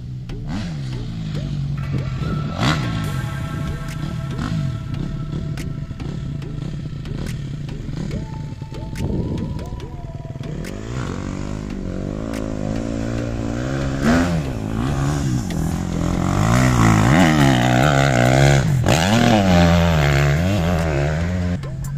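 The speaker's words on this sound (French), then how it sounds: "on va décharger les motos. Et puis, c'est parti, on va rouler." Motocross motorcycles ride and rev at a race track, their engines buzzing loudly and continuously with rising and falling pitch as riders accelerate and shift through the run.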